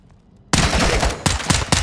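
Gunshots in Call of Duty Modern Warfare II erupt suddenly after a quiet moment, loud and close, then keep firing in sustained bursts with several distinct punchy shots toward the end, and no talking.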